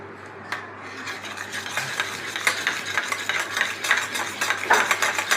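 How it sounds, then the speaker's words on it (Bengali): A homemade hair mixture is stirred and mixed by hand in a container, giving close, rasping scrapes and rubbing strokes that repeat and grow a little louder. No voice is heard. "এভাবে অনবরত একটু নাড়তে থাকবেন, মিশাবেন।"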